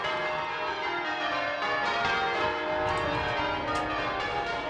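Church bells ring out from a tower in a dense, continuous wash of overlapping tones, heard at a moderate distance with no voices.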